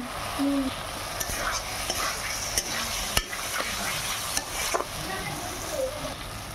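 Potatoes sautéed with spices in a pan for besan bora curry, giving a steady stir-fry sizzle with repeated scrapes and clinks of a spatula, close and fairly loud, with no talking.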